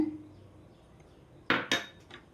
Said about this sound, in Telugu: ఈ సేమియాని అయితే వేయించుకుందాం